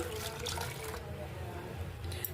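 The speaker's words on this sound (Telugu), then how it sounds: "ఆ వాటర్ ఇందులోకి వేసుకుంటున్నాను." Water pours steadily into a pot of dal, a continuous splashing rush up close, with a voice talking over it.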